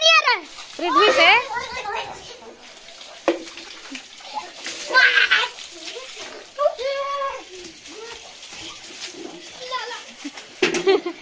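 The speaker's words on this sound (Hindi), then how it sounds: "नीचे गली में पानी जा रहा है" Water splashes and flows down into the lane below, an uneven wet rushing under loud children's chatter and shouts, with bird calls now and then.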